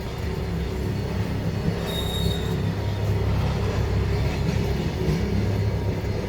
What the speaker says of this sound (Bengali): ট্রেনটা লাহালে লাহালে খাড়া উঠেছে